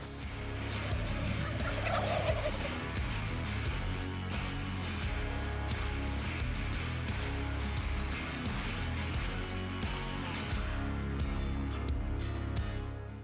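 Wild turkeys gobbling during a Texas spring hunt, with a distant rattling gobble rising early on over a steady, low outdoor hum that persists throughout.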